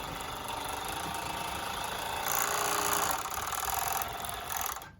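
A Juki 6814 two-needle, four-thread overlock sewing machine with an elastic attachment runs continuously on rough, hard fabric, a steady close mechanical whir that rises slightly in pitch midway.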